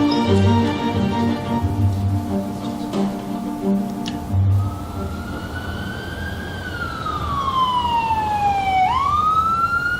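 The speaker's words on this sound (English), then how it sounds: "Mel and Jay now have a police escort to the hospital." A police car siren escorts an ambulance on a road, rising and sweeping in a loud wail that grows stronger and nearer, over rumbling traffic noise.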